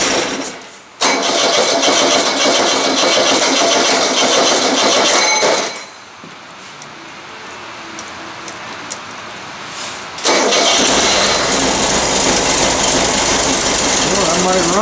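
An old Volkswagen carburetor engine cold-starting after sitting for eight years: loud cranking and rough running, then a quieter lull with faint clicks before the engine roars loudly again.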